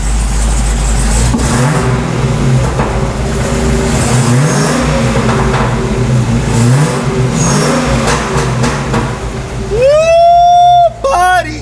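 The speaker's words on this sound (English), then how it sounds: "We've created the world's first naturally aspirated Hellcat" A Dodge Hellcat V8 converted from supercharged to naturally aspirated rumbles loudly and steadily at idle with rising and falling revs, then briefly roars higher near the end.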